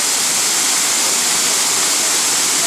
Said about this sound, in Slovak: Naokolo sa také cicerky vody pekné padajú z toho.